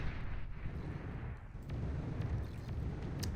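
Metal extractors blown apart by sniper fire in the real-time strategy game Beyond All Reason, a dense rumbling blast of low booms rolling on steadily with a few sharp crackles near the end.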